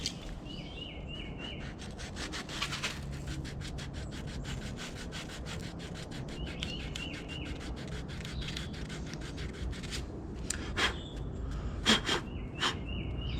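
Burrs are sanded off a cut plastic Ford side body molding in quick, rhythmic scraping strokes that repeat steadily and grow a little louder toward the end.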